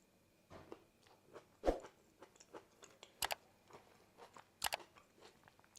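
Crunchy bites and chewing of a raw red chili pepper close to the mic, a few sharp crunches standing out among softer chewing sounds, with no talking.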